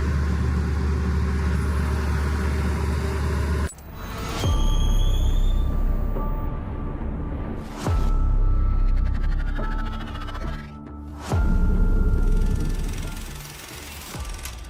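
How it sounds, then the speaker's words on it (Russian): A Zoomlion PG2004 tractor rated at 235 horsepower runs with a rotovator on a field of overgrown fallow ground, its engine a steady low drone that surges louder in a few heavy bursts, with sharp clanks and intermittent high-pitched whines over it. "Трактор у нас Zoomlion PG2004, 235 лошадиных сил."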